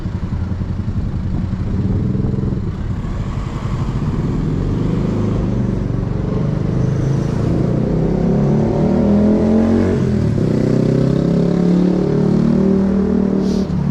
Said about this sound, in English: Somebody with a loud obnoxious exhaust.